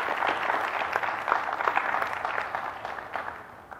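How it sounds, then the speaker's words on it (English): A large audience applauds steadily for nearly four seconds, a dense, close wash of clapping that thins slightly toward the end, with no talking over it. "First, I'd like a big round of applause"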